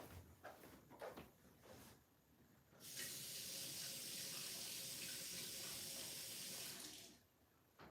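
Water tap running full into a sink while an opal stone is rinsed, a steady loud rushing hiss lasting about four seconds, preceded by faint clattering handling noises and cut off abruptly.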